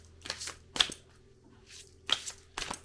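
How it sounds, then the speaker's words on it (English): An oversized tarot card deck being shuffled by hand in short, papery riffling bursts separated by brief pauses, close and clear with no talking. "this deck is kind of hard to shuffle because the cards are quite large"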